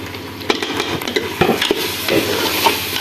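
A spoon stirring ground coriander, cumin and black pepper into beef frying in a pan, with steady sizzling under irregular scraping and clinking strokes against the metal, close up and with no talking.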